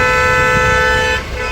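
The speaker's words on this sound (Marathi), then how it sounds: "आता हा हॉर्न का मारतोय" A vehicle horn blares in one long, steady, loud blast in heavy traffic near a bridge in Palghar, then cuts off, leaving road noise.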